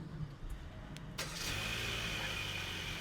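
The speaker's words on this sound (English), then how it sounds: "Let's go ahead and remote start it again. Lock button, remote start button." A Hyundai Tucson started remotely by key fob: a few faint clicks, then the engine catches and settles into a steady low idle with a thin whine on top, heard from nearby outside the car.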